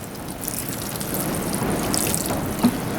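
Water pours from a big watering can onto a potted Rex begonia indoors, a steady close splashing trickle lasting throughout, with no talking.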